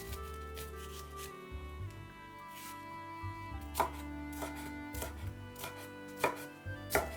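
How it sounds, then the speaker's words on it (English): A knife chopping carrot, onion, pepper and celery into chunks on a board, a dozen or so distinct close thuds at an uneven pace over a quiet background hum, no talking. "Cut all the vegetables into chunks. 1 carrot, 1 onion,"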